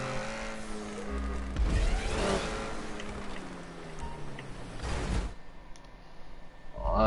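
Game car in GTA 5 tumbling and skidding: a steady engine drone with scraping tire noise and heavy thuds around the second and fifth seconds, fading to quieter rumble before another impact at the end.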